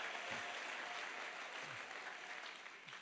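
A church congregation claps in steady, dense applause throughout, moderately distant with no one speaking over it.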